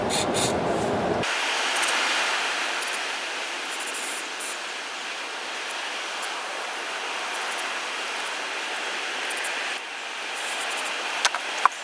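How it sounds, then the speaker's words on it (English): Aerosol cleaner hisses steadily in a long close spray into the carburetor holes of a Homelite chainsaw, a broad continuous rush with a short louder burst at the start and faint clicks near the end. "just spraying all the little holes here, make sure if there's anything left inside there that it comes right out"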